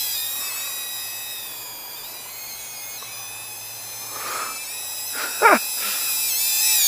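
A 1602 Box Flyer beginner quadcopter drone hovers and flies with a steady, high motor whine that holds at an even level, with a brief louder swell near the end.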